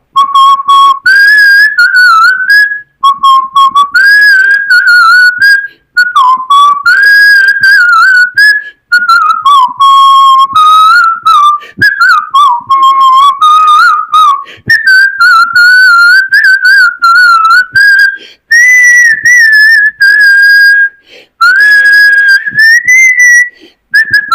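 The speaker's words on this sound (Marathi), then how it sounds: "मी शिट्टीतून गाणं म्हणून दाखवणार" Someone whistles a film song solo, a clear, close, loud melody in flowing phrases with brief pauses for breath.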